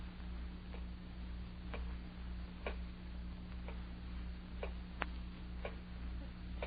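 Faint, steady tick-tock of a clock in a radio drama, with soft evenly spaced ticks over a low background hum and no voices.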